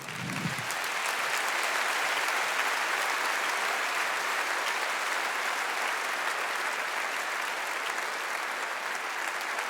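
A large audience at the Zlatna Bubamara 2024 awards ceremony gives sustained applause, an even, dense roar of clapping that holds steady throughout.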